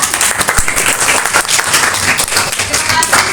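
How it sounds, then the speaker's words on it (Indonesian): A class in an Indonesian classroom bursts into applause, with dense, continuous clapping from many hands at close range and a few voices murmuring underneath. "kasih tepuk tangan ya"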